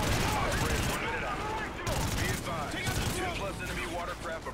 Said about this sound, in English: Is there a machine gun or something?